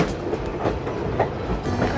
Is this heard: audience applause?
no